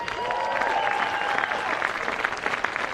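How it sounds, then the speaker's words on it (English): Sustained applause and cheering from a crowd at a national under-18 women's tournament final, honouring fourth-place Hawke's Bay, steady and dense throughout, with a faint tone and some talk mixed in. "let's have one last round of applause, please, for our fourth place getters"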